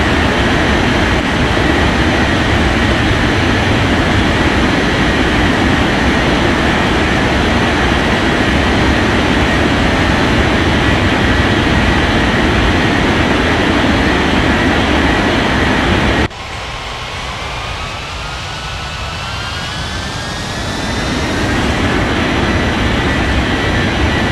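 A jet airliner takes off in the video game Unmatched Air Traffic Control: a loud, continuous engine roar that shifts partway through into a lighter rush with a rising whine, then swells again.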